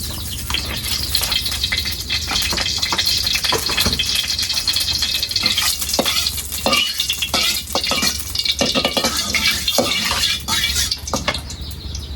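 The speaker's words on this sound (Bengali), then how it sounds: "তো আমি এখন প্রথমে কড়াটা তুলে দিলাম, তারপর তেল দিয়ে দিলাম।" Oil poured into a hot kadai (wok) for frying eggs: a steady, close liquid rush with scattered clinks and light spitting throughout, with no talking.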